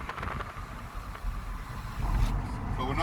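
A car engine pulls through third gear while driving on Basildon roads, a low droning hum that rises and thickens toward the end, heard from inside the cabin with no talk.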